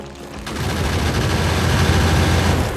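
Gun turrets in the game Factorio firing at a big biter: a dense, continuous stream of rapid automatic shots that runs unbroken for nearly three seconds.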